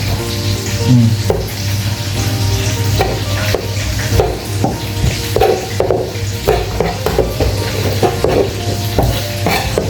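White fish frying in a pan, a steady sizzle with scraping stirs and clinks of a utensil against the pan, close and continuous with no talk.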